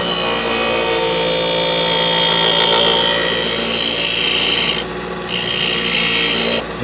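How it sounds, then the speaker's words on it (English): A scissors blade drawn slowly across a white aluminum oxide grinding wheel, a loud steady rasping grind over the motor's hum, briefly lifting off before resuming. "with a light grind, we just take it slowly across the grinding wheel. This white wheel is an aluminum oxide wheel"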